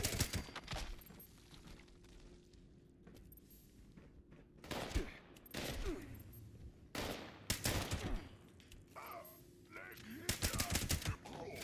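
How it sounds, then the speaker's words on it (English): Video game gunfire in scattered loud bursts and rapid volleys, separated by quieter stretches of background noise. "Bruh, how you shooting around a corner?"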